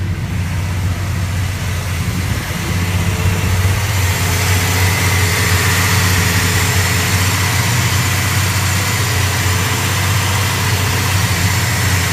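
A 1970 Dodge Coronet engine idles cold with the choke on, giving a steady, even low rumble with a constant hum that runs unbroken throughout, close and fairly loud, with no talking.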